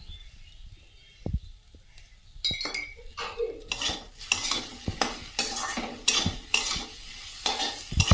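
Potatoes spiced with coriander powder and salt fry in a pan, with a metal spatula scraping and clinking in a brisk rhythm over a steady sizzle after a quiet start.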